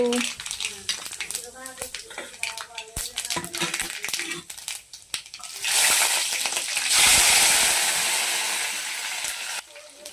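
Tempering seeds dropped into hot oil in a kadai on the stove: metallic clinks and light clatter at first, then a loud, steady sizzle that swells and holds for several seconds.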